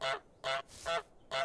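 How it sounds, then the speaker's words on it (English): Four sharp goose honks from Untitled Goose Game, evenly spaced and close, each a loud nasal blast with short gaps between, heard alone with no talk. "we are all very familiar with that very specific goose sound effect"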